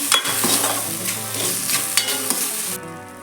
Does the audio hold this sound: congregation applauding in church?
no